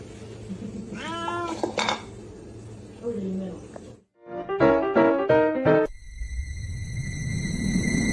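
A house cat meows close by in a funny pet compilation, giving several drawn-out, rising and falling cries with short pauses, mixed with a voice and light household clatter.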